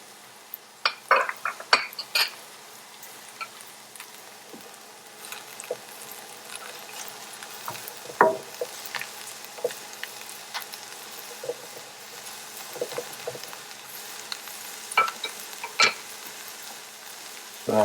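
Butter sizzling in a pan of seafood risotto while a spoon stirs, giving soft scattered crackles with sharper scrapes and clinks against the pan, close and without talk.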